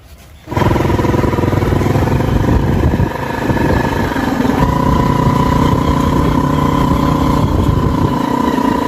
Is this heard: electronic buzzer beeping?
no